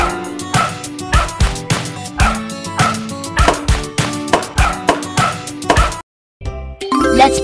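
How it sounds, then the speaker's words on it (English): A cartoon dog in a children's puzzle game barks loudly and repeatedly in a quick regular rhythm over jingling, chiming music, then the sound cuts out briefly before music returns. "Wow! This is a dog!"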